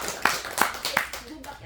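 Three evenly spaced hand claps ring out over a murmur of voices in a lecture room.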